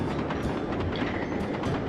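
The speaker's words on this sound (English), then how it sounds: "Typical that there's a train coming right now." A train passes in the video game Sly 2: Band of Thieves, a steady rumbling roll with faint rhythmic clacks and rattles, moderately loud and continuous without speech.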